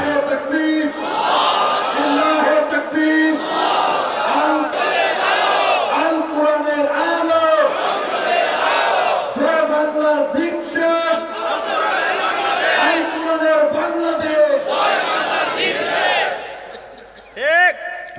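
A large crowd at a religious political rally chants slogans in loud, rhythmic call-and-response bursts. Massed voices rise and fall in repeated phrases, and a strong voice leads over the close, dense roar.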